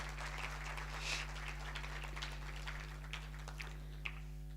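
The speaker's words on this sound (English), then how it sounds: "Another round of applause for him," Scattered applause from a university conference audience at a management and law faculty event, a thin, uneven patter of hands with a few sharper claps standing out, fairly faint over a steady electrical hum.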